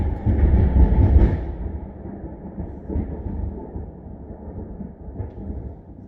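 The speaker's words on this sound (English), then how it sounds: "oh my god, that was a lightning strike, and that is thunder" Thunder after a nearby lightning strike, a loud low rumble that peaks at the start and then rolls on and fades away with a few later swells.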